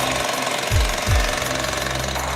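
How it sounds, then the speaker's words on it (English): A police power tool cutting into a house door runs as a loud continuous rattling drone, with two short revving swells partway through and no voices. "They're preparing to cut their way in."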